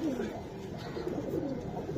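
Giribaz pigeons coo in low, rolling murmurs close by, while someone talks over them throughout.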